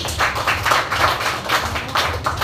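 A church congregation at a Sunday service claps together in a short burst of steady, fairly loud applause.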